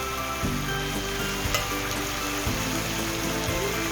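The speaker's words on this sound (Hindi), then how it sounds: "लेमन डाल के इसको आधे से 1 मिनट तक इसको हम भूनेंगे" Mutton pieces sizzle and fry in a pan with half a lemon's juice added, a steady crackling hiss with occasional soft knocks of stirring, close by and without talk.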